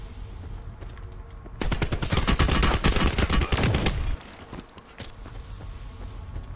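Rapid gunfire bursts in a battle royale video game, a dense loud volley lasting a few seconds that breaks off into quieter game ambience.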